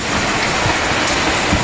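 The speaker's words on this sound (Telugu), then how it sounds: "వర్షం అయితే అసలు ఫుల్ వస్తుంది" Heavy rain pours down as a loud, unbroken hiss of falling water that fills the whole short stretch with a close, even roar and no talking.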